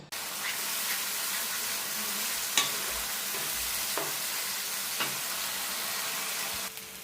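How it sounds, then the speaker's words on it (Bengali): A spice paste of ground fried spices being stirred and fried in a wok: a steady close sizzle with a few sharp scraping clicks of the spatula, continuous and fairly loud throughout. "একটু ভালো করে নাড়াচাড়া করে নিচ্ছি মানে একটুখানি মশলাটা জাস্ট কষিয়ে নিচ্ছি"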